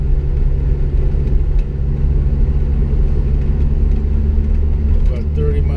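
Jeep Wrangler SE with a slipping transmission, steady engine drone and road rumble at about 30 mph while driving, with a brief dip as the gearbox shifts up into third.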